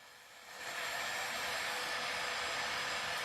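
A heat gun blows a steady, loud rush of hot air onto a blinged hat, rising quickly in the first half second and holding as a constant whooshing roar with no talk.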